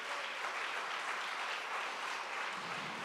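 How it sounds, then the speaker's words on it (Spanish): A church congregation gives a round of applause as an offering to God: dense, continuous clapping from many hands, steady and moderately distant throughout, with no talk. "Denle una ofrenda de palmas a Dios, mis hermanos."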